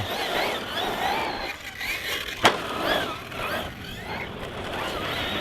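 A Team Magic RC desert buggy runs over rough desert terrain, its small electric motor whining in rising and falling pitch as it rumbles and crunches across the ground, with one sharp knock midway.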